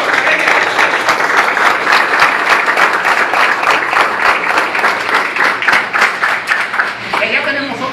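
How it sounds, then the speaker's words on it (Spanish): Crowd applause at a political gathering in Higüey, loud and dense continuous clapping throughout, close and sustained, with cheering voices mixed into the wash of claps. "La licenciada Lidia Villier, un mete aplauso"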